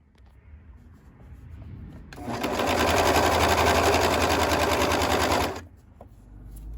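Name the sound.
serger stitching sleeve seams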